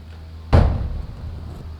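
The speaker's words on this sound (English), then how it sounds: "I'm going to close the door." A door swings shut with one solid thump near the middle, its low boom decaying into a quiet room with steady background hum.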